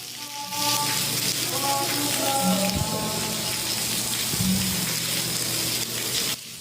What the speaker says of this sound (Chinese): 雨水是沿楼梯一直拼落来